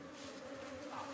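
Wild bees buzz around an opened tree trunk in Sri Lanka, a steady close drone of many insects with no voices.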